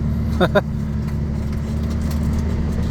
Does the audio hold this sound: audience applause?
no